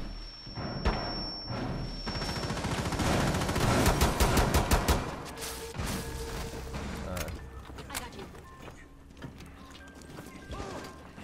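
Gunfire in the Rainbow Six Siege video game: rapid bursts of shots and crashing impacts cluster in a loud middle stretch, then scattered thuds and mechanical clicks, with voices talking faintly.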